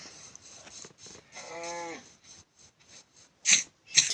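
A Minecraft cow gives one clear mid-length moo, followed by game sound effects and two sharp bursts near the end.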